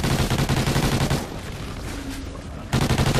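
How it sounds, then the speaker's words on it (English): LMG machine gun fire in a video game rattles in fast continuous bursts, loud and close, pausing for about a second and a half before resuming. "I'll grab this LMG."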